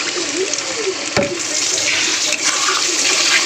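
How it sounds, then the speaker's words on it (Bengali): Water poured from a vessel into a pan of fried ginger, garlic and onion spice paste for egg curry, a steady close rushing pour with one brief knock partway through. "এবার কিন্তু একটু জল দিয়ে দেবো"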